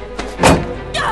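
A heavy crash and thud of a character smashing through a wooden table in the video game Heavy Rain, with a second impact near the end, loud and close.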